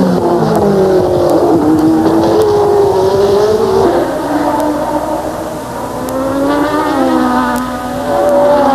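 Formula 1 cars racing in the 1988 season, Ivan Capelli's March diving past Ayrton Senna, engines screaming loud and close with pitch sweeps as the cars shift and pass, the note dipping briefly and then surging back.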